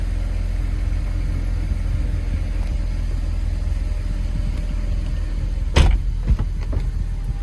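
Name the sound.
stock 2008 BMW 135i engine cold start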